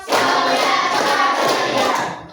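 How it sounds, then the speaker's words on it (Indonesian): A group claps hands together on cue during a gathering, making a loud, close, dense burst of clapping that holds steady for about two seconds before trailing off. "Coba tepuk satu dulu. Tepuk satu. Tepuk dua. Tepuk tiga. Tepuk empat."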